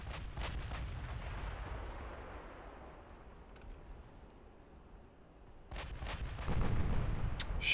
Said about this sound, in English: That was the last salvo from that ship.